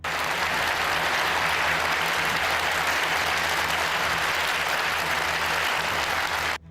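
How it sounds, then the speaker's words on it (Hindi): Dense, sustained applause from a large gathered crowd honouring Shinzo Abe on his last day as Japan's prime minister, steady and loud for the whole stretch, with no voices rising above it. "तालियों की गड़गड़ाहट के बीच उन्हें फूलों का गुलदस्ता दिया गया"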